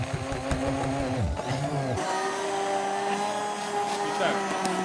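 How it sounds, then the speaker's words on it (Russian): An electric blender whirs steadily, mixing strawberries, condensed milk and milk into a milkshake. The motor drone is loud and continuous, with its pitch shifting partway through as the mix thins out. "Дальше мы берем блендер."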